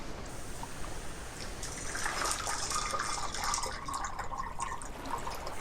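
Hot water pours steadily into a container, a soft continuous trickle that swells briefly in the middle before easing off, heard alone and fairly quiet.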